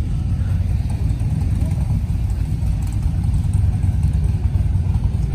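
Motorcycles, including Harley-Davidsons and a sidecar machine, rolling out of a crowded parking lot at the Lasarte hippodrome, their engines a steady low rumble and idle that continues without a break.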